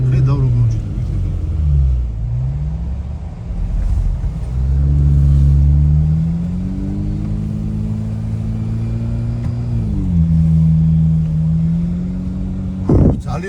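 A car engine drones and revs in waves on the Goderdzi mountain pass road, a steady close rumble rising and falling, with voices talking over it.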